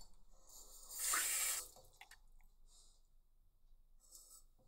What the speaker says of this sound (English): cold water from the sink